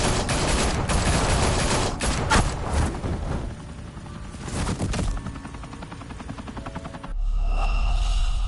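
Sustained burst of heavy gunfire in the Batman Telltale video game, dense loud rattling volleys filling the scene with a mechanical clatter, easing off partway through and then surging again at the end.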